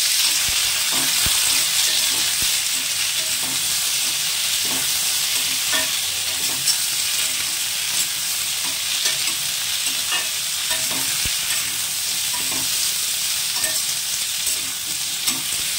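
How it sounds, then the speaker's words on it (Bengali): Vegetables with potato, eggplant, beans, tomato and small puti fish fry in a pan, giving a dense steady sizzle with repeated scraping stirs of a spatula throughout, close and loud with no talking. "সবজিগুলো পুরো ভেজে নিচ্ছি"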